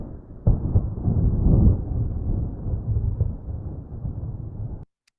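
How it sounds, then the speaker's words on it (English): AI-generated thunder, a soft distant deep rumble rolling steadily for about five seconds with a swell near the start, then cutting off abruptly. "deep rumble of the storm echoes through the sky and"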